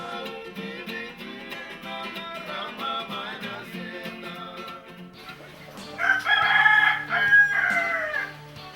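A rooster on a remote island in Fiji crows in long, strained calls, close and fairly loud, with other birds and ambient outdoor sounds behind it.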